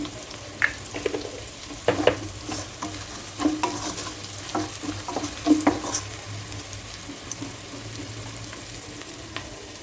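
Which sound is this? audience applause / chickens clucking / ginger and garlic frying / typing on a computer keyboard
ginger and garlic frying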